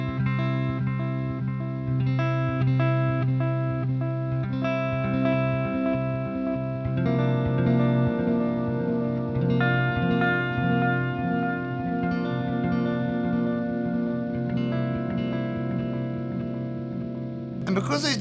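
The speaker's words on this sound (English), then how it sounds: "the echo repeats never ever seem to get in the way of your initial guitar playing" Electric guitar played through a PastFx Echo 600 analog bucket-brigade delay pedal, sustained chords and notes trailed by soft, slightly degraded echo repeats that fade away, steady and fairly loud with no talking.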